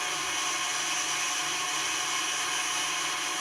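A mixer running on high speed whirs steadily as it blends sugar and oil together, a continuous motor drone at constant loudness with no talking.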